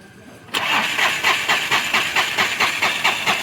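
A diesel engine, checked after a fuel supply fault from the pump, cranks and catches after a short quiet lead-in, then chugs in a rapid, even pulsing rhythm close by and fairly loud.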